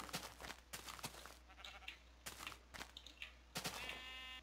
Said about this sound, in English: Some more sheep.